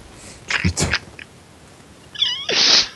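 A Minecraft cat meows twice in short, close cries, separated by a pause, with a voice talking nearby.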